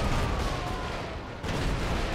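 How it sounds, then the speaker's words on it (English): Explosions and gunfire in the video game GTA 5, a dense continuous rumble of blasts and crackling bursts, loud and close, with no talk. "Oh, there's a lot of explosions over here."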